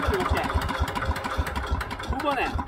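A power tiller's engine is cranked and catches, throwing out a steady series of low thumping firing pulses close by. A voice is heard over it.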